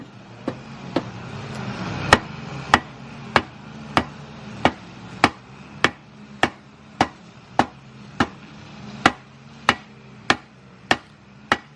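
A hammer drives ISR bushings into a Nissan 350Z subframe with about eighteen sharp metallic strikes at a steady, fairly quick pace, each loud and close, with no talking.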